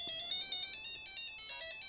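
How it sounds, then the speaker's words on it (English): A tiny electronic keyboard plays a quick, beepy tune that sounds like an old Nokia ringtone, with rapid repeated notes, thin and fairly quiet, and no talking. "They sound like Nokia ringtones."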